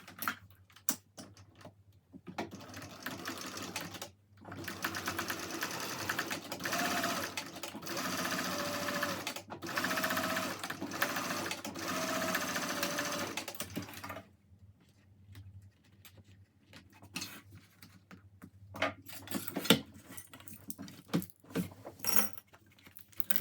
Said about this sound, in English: now we're going to sew the bottom of these two panels together with a 1/2 inch seam allowance